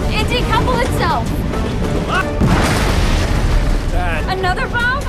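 A bomb explodes in the animated show RWBY, a broad boom bursting up midway and mixed with character voices, action sounds and score that continue on both sides of the blast.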